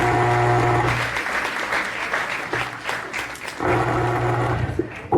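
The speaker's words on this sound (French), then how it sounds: "Continuez à applaudir" Audience applause at a school gathering in Haiti, a crowd clapping steadily under a low humming tone, the sound thinning briefly midway before picking up again.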